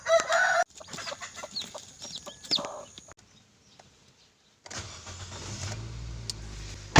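Native hens and their chicks cluck and chirp at close range while feeding, giving bright, repeated calls in the first few seconds, followed by a lull and then a steadier rumbling background.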